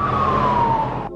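A loud siren wails with a long, slowly falling tone that cuts off abruptly near the end.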